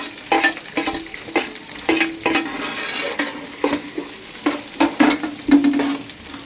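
Onions fry with curry leaves for a Telangana-style chicken curry, a steady sizzle broken by rhythmic spoon scrapes and clanks against the pan, roughly a dozen strokes, close and loud with no speech.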